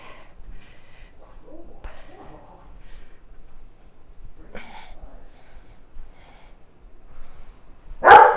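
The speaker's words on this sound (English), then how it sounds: "you will not be barking on camera" Quiet shuffling and faint voices, then a single sharp dog bark bursts out loudly near the end.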